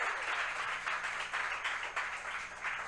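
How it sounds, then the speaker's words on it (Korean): A church congregation at an evening revival service applauds, a sustained wash of clapping from many hands that swells and eases slightly without a break. "우리 정말 잘해서 한번 박수를 주세요."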